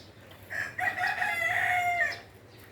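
A rooster crows once, a long loud drawn-out call rising and holding before trailing off, with no talking.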